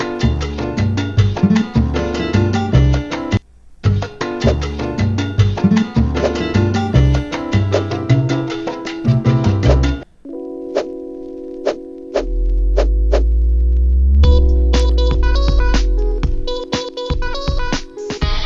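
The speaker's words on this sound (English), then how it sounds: "I'm just gonna say play some bossa nova" Bossa nova music plays in Scratch with plucked, steady chords and a light rhythm, then breaks off into sparse tones and a low sustained drone.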